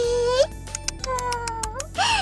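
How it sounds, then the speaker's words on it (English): A black cat meows several times in a row, loud and close, with a long drawn-out call at the start and another at the end and shorter mews between, alone with no talk over it. "Oh, a kitty."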